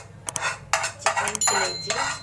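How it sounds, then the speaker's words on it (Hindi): Marinated chicken liver dropped into a metal pan, giving a series of clattering, sizzling bursts mixed with utensil clinks, close and moderately loud. "अब इसमें मैं डाल दूँगी ये मैरिनेटेड चिकन की लीवर"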